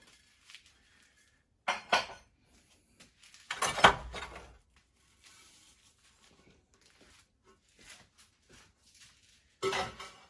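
Ceramic plates fired at 1250°C, taken from a kiln, clink and knock together in a few separate bursts, each brief and fairly close, with quiet gaps between them.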